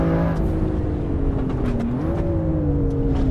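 A racing car engine from the game Assetto Corsa Evo, a BMW M2 with performance package, drones loudly and steadily, its pitch rising and easing as it accelerates, with no voices over it.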